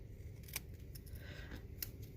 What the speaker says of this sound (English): snip off some of that.